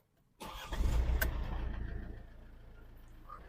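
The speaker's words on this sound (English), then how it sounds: "Then I'm going to start the car." A Mercedes CLS with an air suspension failure starting up on the floor, a sharp crank that catches into a loud engine roar, then settling to a steady, quieter idle close by.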